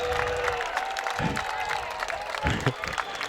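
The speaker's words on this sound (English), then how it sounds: "a derisive cheer from the crowd" A football crowd at a stadium game lets out a derisive cheer, a broad, steady roar of many voices with louder swells and scattered clapping, heard from within the stands.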